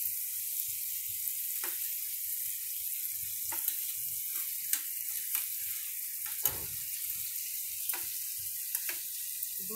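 Chicken pieces for butter chicken fry in a pan with a steady close sizzle, broken by a few soft clinks and scrapes as they are turned; no talking.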